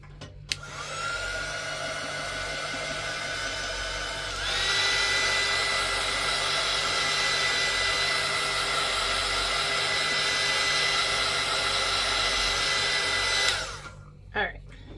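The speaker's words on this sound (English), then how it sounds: "I always have my heat gun plugged in near me." A heat gun blows hot air over buckling craft paper, a steady close whirring roar that steps up in strength partway through, runs for about ten seconds, then cuts off.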